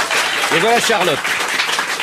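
Studio audience on a French TV talk show applauds loudly and continuously, a dense wall of clapping with someone talking briefly over it.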